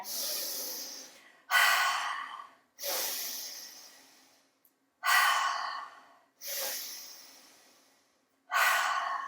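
Forceful breathing exercise done as bear breath: five strong, hissing exhales in a steady rhythm, each separated by a brief silent gap, close and fairly loud with no talking.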